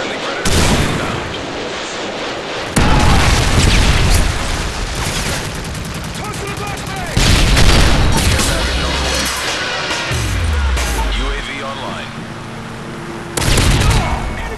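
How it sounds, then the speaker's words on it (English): Missile strikes and explosions in a military shooter video game, with heavy booming blasts and crashing impacts recurring across the span alongside gunfire, loud and close throughout. "Friendly predator missile inbound."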